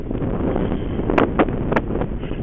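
Strong wind buffets the microphone beside a river on a bicycle outing, a steady rough roar with a few brief gusty flares and no speech.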